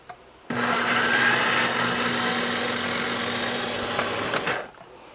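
A blender whirs steadily for about four seconds while mincing a whole lemon, starting abruptly and cutting off at the end, loud and close with a constant motor whine and grinding.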